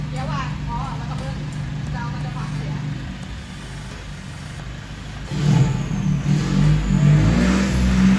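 Lifted Isuzu X-Series automatic pickup with a new exhaust revs up in bursts, a loud rising engine roar swelling near the end, with people talking nearby.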